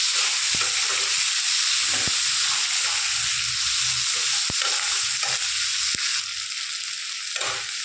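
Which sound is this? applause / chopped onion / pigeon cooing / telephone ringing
chopped onion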